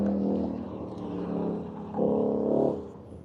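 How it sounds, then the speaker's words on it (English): A race car engine drones steadily, then surges louder as it revs hard past, its pitch rising before fading away. "Keeping the car planted really well through that tight section there."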